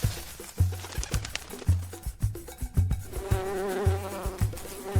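A swarm of stinging bees at a beehive raided by a honey badger buzzes in close, droning waves, with rhythmic low thumps running through it.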